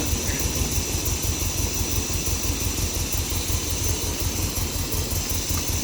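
A 1970 Datsun Roadster SPL311 engine idles close by with a steady, even, throbbing rumble that holds at a constant level throughout.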